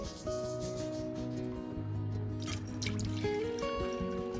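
Water pours steadily into a container holding a baking soda mixture, a sustained liquid trickle and fill with a slowly shifting pitch as the vessel fills, heard alone and fairly close.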